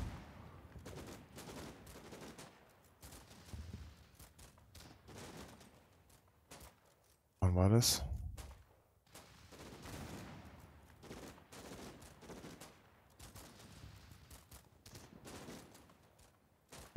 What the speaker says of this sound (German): Irgendwo fällt Artillerie.